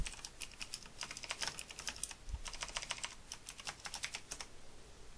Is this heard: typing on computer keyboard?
yes